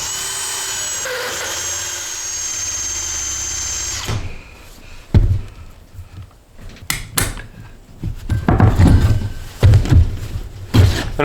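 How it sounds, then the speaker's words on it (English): A power drill bores a hole through a mobile home floor, its motor first droning steadily, then breaking into loud, uneven bursts and grinding pulses as the bit bites through wood and blocking below. "I'm going to be drilling a hole and getting it over with right now so that we can get our wires pulled up"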